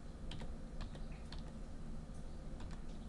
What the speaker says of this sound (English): which we'll type into the text box